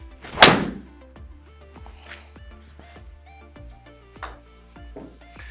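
A Callaway X Forged CB iron mishitting a golf ball gives one sharp, loud strike near the start, followed by quieter clicks and soft thuds with a steady low hum in the background.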